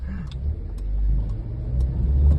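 A manual-transmission car's engine runs steadily as it is driven, a low continuous rumble that swells slightly as it gains speed, with faint interior clicks and no talking.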